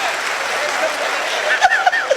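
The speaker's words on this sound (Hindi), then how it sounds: "भैया ताली गूंजनी चाहिए, कमाल की बात है।" Applause from the audience at a Haryanvi comedy show, a continuous clapping wash under the performer's voice, which rises over it near the end.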